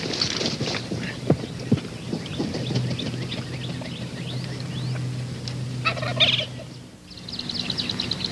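Wild turkeys call and gobble outdoors on a hunt, with a hen joining in: a busy stretch of clucks and yelps, with one or two louder gobbles standing out over the background.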